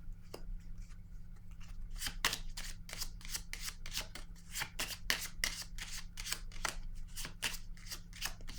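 Tarot cards being shuffled, a long run of rapid, crisp riffling bursts close by in a regular rhythm over a low steady hum, with no talking.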